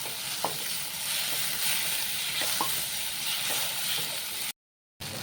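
Tomatoes and onions, with green chili and ginger, sautéing in a pan for a Kerala pearl spot fish curry: a steady close sizzle broken by a few soft stirring knocks, with no voices, then a brief cut to silence before it resumes.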